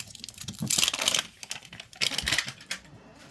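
Someone tears open the crinkly wrapping on a Miniverse capsule ball. Close, loud ripping and crackling come in two main bursts separated by a short pause, with a final smaller crinkle.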